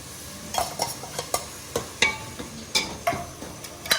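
Ground tomatoes sautéing in a pan for a fish curry, a low sizzle broken by a regular rhythm of sharp spoon scrapes and taps against the pan, close by with no talk.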